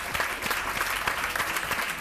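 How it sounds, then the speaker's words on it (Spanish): A television studio audience applauds actress Ainhoa Santamaría with dense, steady clapping throughout, moderately loud and evenly sustained. "Ainhoa Santamaría, un aplauso para ella."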